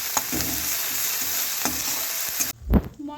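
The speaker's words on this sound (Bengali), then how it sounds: "রসুন বাটা, সব মশলাগুলোকে খুব ভালো করে ভেজে নেব" Spices with ginger paste and garlic paste frying in a pan, a continuous loud sizzle broken by a few stirring scrapes, ending in a sudden drop and a single thud.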